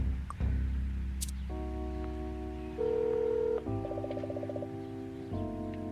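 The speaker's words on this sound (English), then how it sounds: "You call her mother and the phone rings twice before she picks up." In Goosebumps: The Game, a telephone is dialed with a run of touch-tone beeps followed by a steady electronic ring, heard alone over a low background hum.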